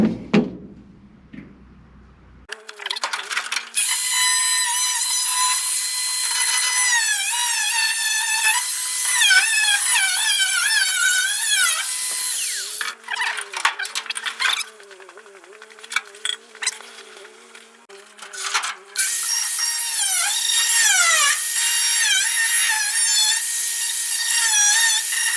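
A power tool cuts through a Lincoln Zephyr drive shaft, its loud whining, grinding metal cut running near-continuously with pitch wavering under load, briefly pausing and restarting midway.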